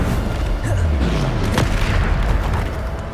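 Booming Bombarda spell explosions burst in a Hogwarts Legacy battle, several heavy blasts landing over dense ongoing combat noise with a sharp crack around the middle.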